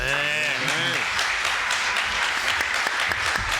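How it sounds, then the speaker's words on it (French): Studio applause for quiz contestants on a French family quiz show, a steady dense patter of clapping that swells after a brief opening of voices and continues loud and unbroken to the end. "4 points, on peut les applaudir"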